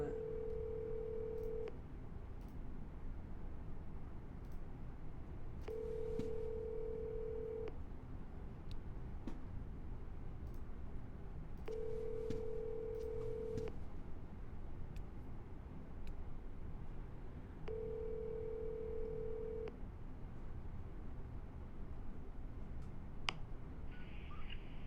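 Telephone ringback tone on an outgoing cold call to a motivated seller: four steady, evenly spaced ring pulses of about two seconds each over a constant low hum, with no voices.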